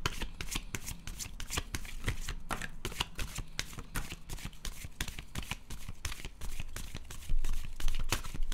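Tarot cards shuffled from a deck, a steady run of soft, quick riffling slaps close by, growing a little louder near the end, with no talking.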